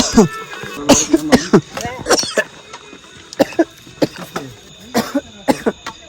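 Repeated harsh coughs and throat clearing from dust in short bursts, close up, with some voices and movement in between, during a night trek at Velliangiri.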